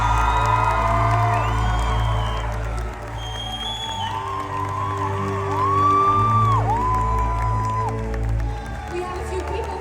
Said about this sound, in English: veuillez faire un tonnerre d'applaudissements pour nos beats du jour, Elijah Wood and Billy Boyd